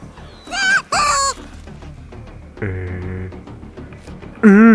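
Pig squealing in the hunting video game theHunter: Call of the Wild, several loud, wavering, high-pitched cries in separate bursts, with a lower drawn-out tone between them over faint background noise.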